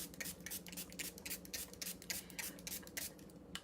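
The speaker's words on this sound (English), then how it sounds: "I'm going to spray the surface." Quick, hissing bursts of a spray bottle misting water onto a surface repeat in an uneven rhythm, close and fairly quiet, with no talking.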